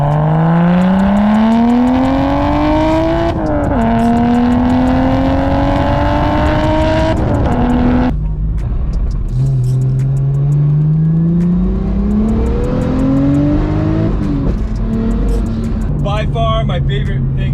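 Single-turbo BMW 335i with an N54 engine, rebuilt and tuned, running 20 psi on 91 octane, revving hard: a loud, continuous engine note climbing and dropping through several gear-like sweeps, with a rising whine near the end.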